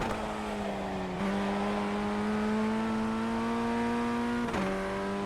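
A Ray FF 1600 formula race car engine in the iRacing sim at Circuit de Ledenon holds a steady high drone that climbs gradually through the gears, with two quick shift dips, loud and close with no talking.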